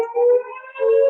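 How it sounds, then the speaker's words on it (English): A public warning siren sounds alone and loud in a short steady wail that dips briefly in the middle and then swells back up. "Sorry for the siren."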